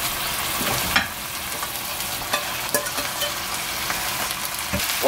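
Mulberry leaf greens stir-fried in a pan with kelp broth, a steady bubbling sizzle broken by a few sharp scraping and clacking stirs, close by, with no talk.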